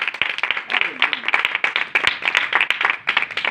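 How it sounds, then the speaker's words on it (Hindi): Enthusiastic crowd applause at a Christian religious gathering, a steady dense patter of many hands clapping throughout, with a voice faintly audible underneath. "जोरदार तालियां।"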